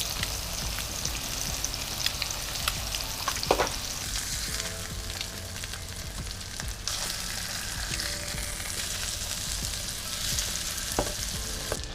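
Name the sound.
eggs frying in sausage fat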